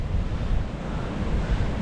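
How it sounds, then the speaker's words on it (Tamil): Strong wind buffets the microphone at a lagoon shore in Little Andaman, with a low constant roar and surf rumbling beneath, no voices. "காற்று பயங்கரமாக அடிக்குது"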